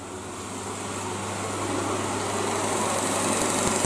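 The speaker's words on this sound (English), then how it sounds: "So I'm using the cylindrical grinder with a cut-off wheel and coolant and a swinging V-block." Cylindrical grinder wet grinding hardened, nitrided tool steel with a cut-off wheel and coolant, a steady dense high-pitched hiss and whine with a low motor hum, constant and close.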